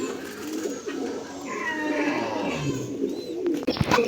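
Racing pigeons from a BRP club coo softly in their loft, a steady low murmur of calls with faint fluttering and shuffling, fairly close and continuous with no talking.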